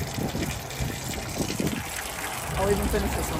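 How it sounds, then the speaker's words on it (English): Mineral water from a roadside spring called Twin Spring in Colorado Springs, Colorado, spurts and gushes continuously close by, with faint voices in the background. "And it's just kind of spurting water out."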